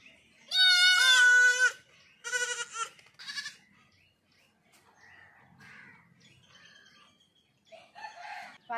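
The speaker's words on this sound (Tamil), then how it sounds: "ஆடு வேற ஆட்டுக்குட்டி வேற கத்திக்கிட்டே இருக்கு" A goat and a young kid bleat on a rural homestead during evening chores: a loud run of wavering bleats up close, then shorter calls, followed by quieter scattered animal and household noises.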